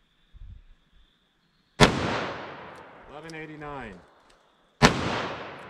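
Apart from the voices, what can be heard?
gunshots from .327 Federal Magnum snub-nose revolver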